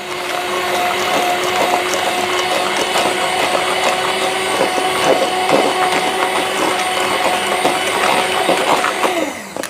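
Eggs being whisked again with an electric mixer or beater in a home kitchen, a steady continuous whirring drone that runs loud and close, unbroken for the whole stretch with no talking.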